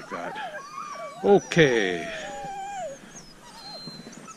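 Sled dogs out on a trapline whimper and yip in several short, high, wavering bursts close by, while someone speaks briefly among them.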